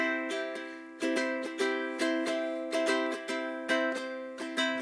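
Steady ukulele strumming in a quick down-and-up rhythm, bright chords repeating evenly with accented strokes, close and clear with no voices.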